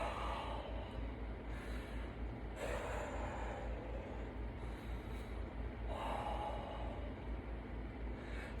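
Deep breathing during a leg workout, loud rhythmic inhales and exhales repeating about every three seconds over a steady low background rumble.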